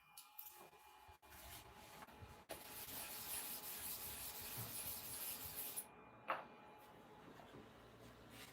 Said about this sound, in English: Let us continue the sharpening.